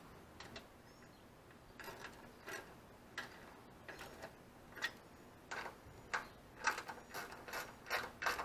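Someone works a ratchet to tighten a bolt on an overflow tank, giving quiet, close clicking in short irregular bursts. The bursts come closer together and grow louder toward the end, with no talking.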